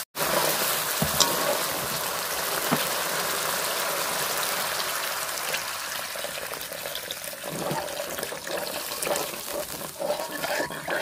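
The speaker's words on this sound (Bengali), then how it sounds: "জল দিয়ে দেবো।" Water pouring into a pan of fish curry with chili and turmeric paste, a steady close rushing splash that runs unbroken for about eleven seconds with no voices.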